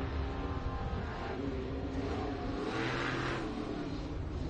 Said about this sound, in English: That thing sounds just so smooth and quiet as that goes by.